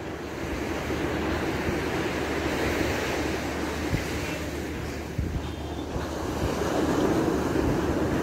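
Atlantic Ocean surf rolls steadily onto Lumley Beach in Freetown, Sierra Leone, a continuous loud wash of breaking waves with wind buffeting the microphone and no voices.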